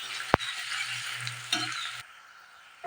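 Ground ginger, garlic and onion paste fries in oil for a chicken masala, sizzling steadily up close after a sharp clink at the start, with stirring scrapes before the sizzle fades down near the end.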